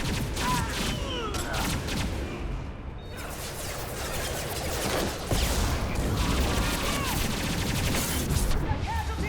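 Heavy gunfire in the video game Mass Effect 2: a dense, continuous barrage of shots and impacts that holds steady throughout, loud and close, with brief crashing bursts mixed in.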